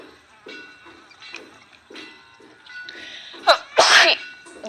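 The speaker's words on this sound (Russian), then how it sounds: "видишь, я чихнула" A woman sneezes loudly and close by near the end, a sharp burst following a brief wind-up, after quieter speech-like sounds and rustling earlier.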